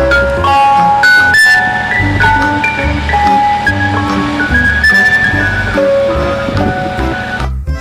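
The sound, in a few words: toy ice cream truck jingle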